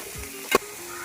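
Mustard seeds and onion sizzle in hot oil with a steady hiss. A single sharp, loud crackle bursts out midway, and no one speaks.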